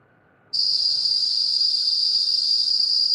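After a brief quiet moment, a cicada buzz switches on suddenly. It is a loud, high, continuous drone that holds steady and close to the end.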